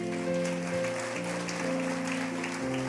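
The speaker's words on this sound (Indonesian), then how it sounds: "Saudara beri tepuk tangan dulu nih." A church congregation claps through a worship service, a dense steady patter of many hands lasting about three seconds over sustained keyboard-like musical tones.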